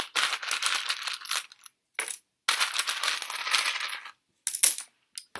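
Dice rattle and clatter loudly in a tray during a tarot card reading, with bursts of rolling and tumbling broken by short silences, close and crisp.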